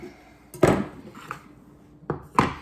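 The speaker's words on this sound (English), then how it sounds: "I am just gonna cut this butter into a bunch of little tiny pats of butter" A knife cuts butter into small pats on a board, producing a few distinct close knocks separated by quiet pauses, with no talk.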